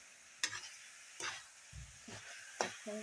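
Coconut and flour mixture stirred in a frying pan for laddoos, with a handful of distinct scraping strokes at an uneven pace over a soft sizzle, close and moderately loud, no voices.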